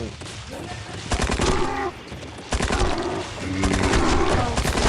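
Dino Hunter Deadly Shores gunfire bursts repeatedly in heavy volleys that dip briefly and then resume, with a voice talking underneath the shooting.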